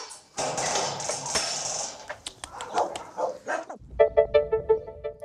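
Two dogs barking in repeated sharp, loud bursts over noisy background, then a quieter stretch with a few clear close barks near the end.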